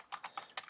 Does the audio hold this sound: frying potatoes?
no